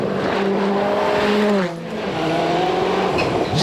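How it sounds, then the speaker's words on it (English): A Seat Cordoba rally car races a gravel stage at Rally Finland in 1999, its engine droning loud and steady with rising and falling pitch as it shifts, dipping briefly midway before pulling hard again. "Seventh on the road, the Seat of Harry Rovanperä."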